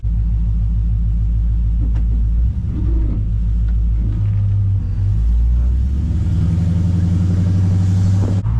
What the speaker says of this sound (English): the drone on this exhaust, I don't know, maybe it's touching somewhere or something